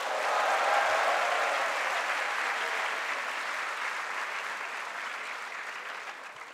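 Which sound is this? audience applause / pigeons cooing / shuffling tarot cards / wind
audience applause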